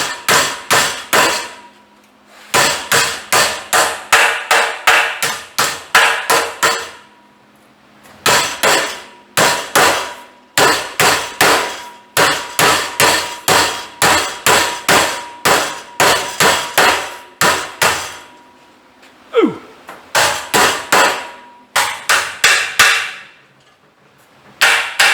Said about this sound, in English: Let us whoop upon it with a hammer.